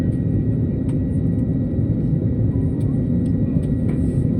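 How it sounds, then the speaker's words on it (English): Steady cabin rumble of an IndiGo Airbus A321neo on a domestic Kolkata to New Delhi flight after landing, a continuous low engine and airframe drone with faint higher whine, no talk. "This aircraft we flew, it's not an A320, it was an A321."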